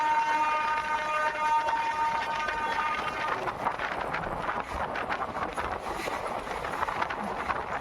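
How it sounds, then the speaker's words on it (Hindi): The 22471 Bikaner–Delhi Sarai Rohilla SF Express runs at speed with a continuous loud rumble and rattle of wheels on track, heard from on board. "तो गाइस ट्रेन बढ़ रही है रतनगढ़ रेलवे स्टेशन की तरफ"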